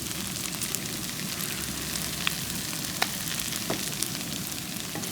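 Quail stir-fry sizzles steadily in a hot pan as a grated coconut mix goes in, a soft continuous crackle and hiss with a few faint clicks and scrapes, no voices.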